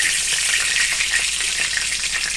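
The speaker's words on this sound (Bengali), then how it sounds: "এইভাবে কম আছে ভাজলে চিকেন ক্রিস্পিও হবে" Chicken frying in a pan at home, a steady, dense hiss of sizzling oil that holds close and loud throughout, with no talking over it.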